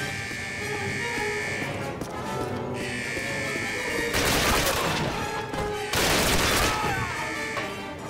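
Automatic weapon fired from the hip in Call of Duty, two long sustained bursts of rapid loud shots over steady game ambience and a held electronic tone.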